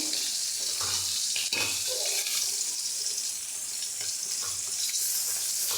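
Sardines fry in a hot pan with oil, a continuous loud sizzle and crackle with occasional scraping stirs, no voices over it.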